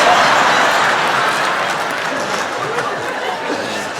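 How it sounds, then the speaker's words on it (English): An audience at a Jackie Mason stand-up comedy show applauds in a steady, dense wash of clapping with a faint crowd murmur, holding at an even level throughout. "The Gentiles are clapping and the Jews are clapping."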